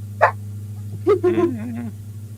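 A dog barking loudly: a sharp single bark, then a short run of barks with whiny, yelping tails, close and prominent over a steady low engine-like hum.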